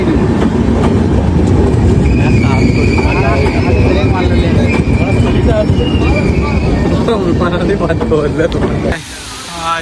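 A train rushes into a station at speed close by near Bolpur Santiniketan, with a heavy roaring rumble and rhythmic rattling wheels, people talking over it, before the noise suddenly drops away.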